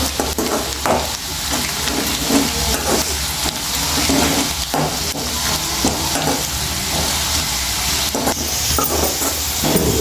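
Thinly sliced onions frying in oil for homemade veg dum biryani, a continuous loud sizzle and hiss close up with occasional stirring clatter, no voices.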